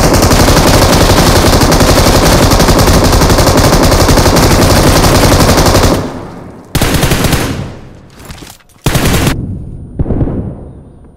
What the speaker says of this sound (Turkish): 75 mermiyi de boşalttı